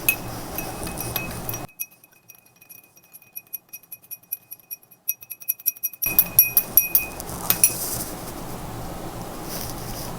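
A spoon clinks against glass in a quick run of light, ringing taps while stirring sugar into hot water, with a hushed pause before the stirring picks up again and fades into room noise.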